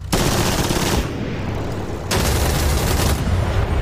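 Rapid, loud bursts of Mosquito FB VI aircraft cannon fire in the DCS flight simulator, dense booming volleys in two long strings separated by a brief lull, with no voices.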